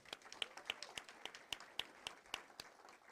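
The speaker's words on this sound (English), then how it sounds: "Let's give them a round of applause" A faint, scattered round of applause from an audience at a groundbreaking ceremony for an ASD family and community resource center, honoring students, with a few distinct claps standing out over soft background clapping.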